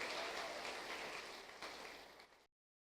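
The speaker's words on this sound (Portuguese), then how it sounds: "Aplauda Ele, querido." A church congregation claps together in a dense, even patter of applause that holds for about two seconds and then cuts off abruptly into silence.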